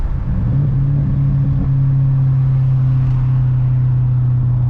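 A 2004 Pontiac GTO V8 running rough with a cylinder misfire, its steady low engine drone and rumble holding close and loud throughout with no talk.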